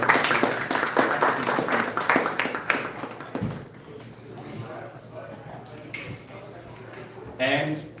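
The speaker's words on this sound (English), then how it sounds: "Let's give him a round of applause." Brief scattered clapping from an audience at a Ghanaian community session in Wellington, New Zealand, a short burst of applause fading quickly into a quiet room with faint sounds.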